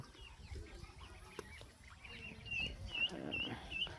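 Chickens cluck softly over a low outdoor background, a few higher squawks rising toward the end.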